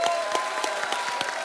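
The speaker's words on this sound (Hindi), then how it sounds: "एक बार जोरदार तालियां" A studio audience on a comedy talk show gives a short burst of clapping, with distinct claps audible within the brief applause.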